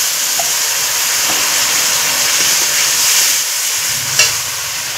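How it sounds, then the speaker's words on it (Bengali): Spice paste for a chicken kosha curry sizzles loudly in a hot pan after a little water is added, a steady hissing fry with faint stirring scrapes and one brief clink near the end, no voices. "আমি অল্প কিছু জল দিয়ে দিচ্ছি।"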